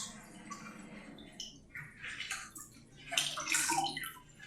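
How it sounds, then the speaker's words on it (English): Indigo-dyed fabric is sloshed and squeezed in a basin of rinse water, giving soft splashing and dripping that builds into louder wet swishes toward the end, close and fairly quiet with no speech. "That excess indigo is rinsing off in my rinse water."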